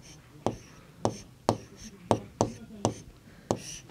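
A word is written on a classroom board during a Class 3 maths lesson on months: about eight crisp, close taps and scratches in an uneven rhythm over faint background hiss.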